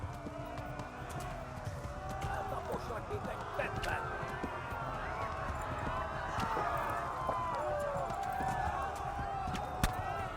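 A horse gallops in the medieval video game Kingdom Come: Deliverance, a steady rapid drumming of hooves under game ambience while someone talks over it.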